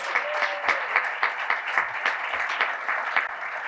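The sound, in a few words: applause for fundraisers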